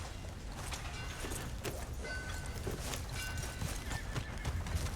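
Horse hooves clip-clopping with a neigh or whinny in the Red Dead Redemption 2 western video game, steady and fairly close over a busy ambient background throughout.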